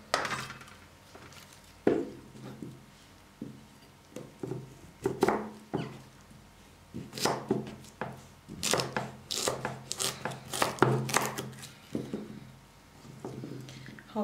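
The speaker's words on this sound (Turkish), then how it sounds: "Şimdi bunları doğrayacağım." A knife chops carrots on a board in irregular, close knocks and scraping strokes that grow busier over time, with a faint voice now and then.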